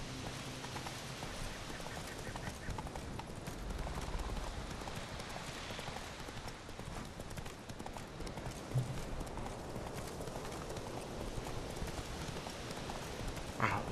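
In The Witcher 3 video game, a horse gallops with a continuous rhythmic clip-clop of hooves, steady and fairly close, under someone talking now and then.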